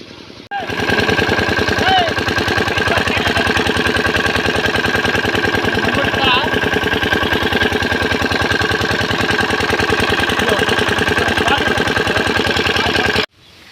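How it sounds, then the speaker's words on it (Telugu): Steady, loud mechanical drone of two diesel engines running fish pond aerators, with a rapid knocking pulse, running continuously throughout, close by, with faint voices underneath. "రెండు ఇంజిన్లు పెట్టాడు అవి కూడా డీజిల్ ఇంజిన్స్"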